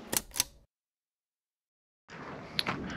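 Crown Graphic large format 4x5 film camera shutter firing a one-second exposure: a sharp double click as it opens, a second of silence, then a closing click followed by faint handling noise.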